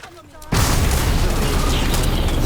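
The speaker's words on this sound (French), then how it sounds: "Tu veux voir ma grenade?" A grenade blows up in the video game Starfield with a sudden loud boom, followed by a dense roaring rumble that holds for the rest of the short moment.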